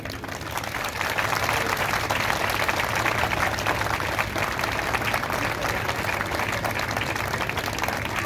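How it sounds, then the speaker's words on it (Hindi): A large crowd claps at a gathering marking Samrat Ashoka Dhamma Vijay Diwas, with loud, continuous applause filling the room from start to finish at a steady level. "तो ये जो ताली बजा रहे हैं दिमाग के दरवाजे को खोलती है।"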